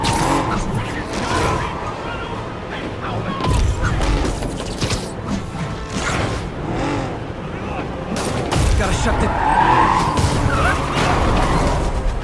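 Car tires skidding and squealing in the Spider-Man video game as stolen vehicles race through the city, a loud continuous mechanical roar with repeated bursts of skids mixed with game effects.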